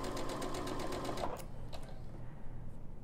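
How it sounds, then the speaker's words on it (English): Sewing machine stitching fabric for a wide-sleeve dolman dress, a fast steady rhythmic needle chatter that runs for over a second, then stops and leaves only faint clicks. "just hold the fabric from actually going away from the presser foot. And then I'm going to sew."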